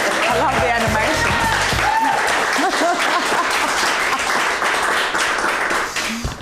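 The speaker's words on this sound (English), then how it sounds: "Thanks, audience, for that big applause" A studio audience gives a talk show host a big round of applause, dense and continuous clapping from a crowd that stays loud throughout and tapers slightly at the very end, with a voice briefly heard early on.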